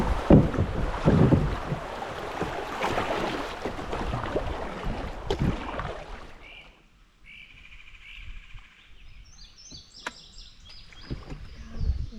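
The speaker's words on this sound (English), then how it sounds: "I'm just paddling along" Kayak paddling on the Caddo River, with splashing strokes and rushing water close to the microphone, wind buffeting at first, then quieter water with chirping frogs or birds in the background.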